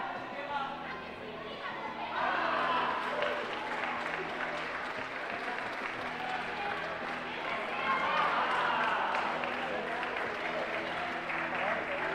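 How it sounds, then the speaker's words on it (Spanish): Audience applause for two climbers at a difficulty climbing final, a broad wash of clapping and crowd chatter that swells and holds, with an announcer's voice talking over it. "Un aplauso muy grande para los dos."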